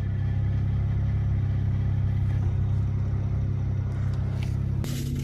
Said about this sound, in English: I'll put my foot on the clutch and I'll show you what it sounds like.